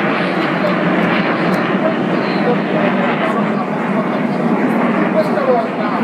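Loud, continuous roar of aircraft engines passing overhead, a steady broad rumble that holds throughout without pause.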